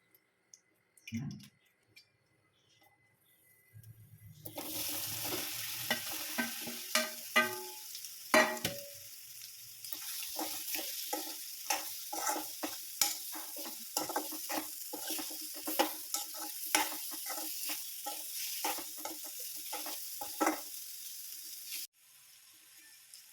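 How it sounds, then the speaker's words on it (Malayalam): Chopped onions, tomato and chillies fry in coconut oil in a pan, with a steady sizzle broken by repeated clicks and scrapes of stirring after a quiet start. "ഇടയ്ക്കിടയ്ക്ക് ഇളക്കി കൊടുക്കുക നന്നായിട്ട് ഫ്രൈ ചെയ്തെടുക്കുക"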